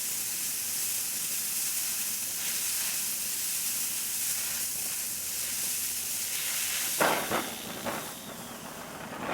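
A steady, broad hiss like steam escaping under pressure runs throughout, as trapped water vapor whistles out of a hot weld, with a few sharp crackling bursts near the end.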